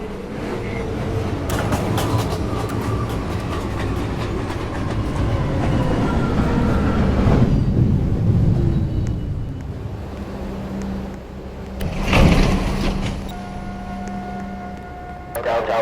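A New York City subway 1 train rumbles and clatters through 207th Street station, rising to a loud passing roar, then easing to a hum with a brief screech and a lingering tonal whine; an announcement voice speaks over part of it.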